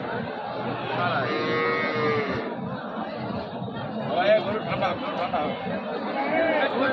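Cattle at a Bangladeshi livestock market selling Sahiwal and local heifers, drawn-out lowing calls rising over a dense crowd of chattering people, busy and continuous throughout.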